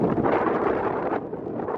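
Wind gusting in the Lake District mountains, buffeting the microphone with a loud, continuous rumbling roar that eases slightly near the end, no talking.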